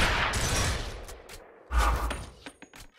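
Gunshots in Gears of War, fired against a wall with bursts of bright noise and a heavy low thump near the middle, then a few sharp trailing cracks, loud and close with no talk.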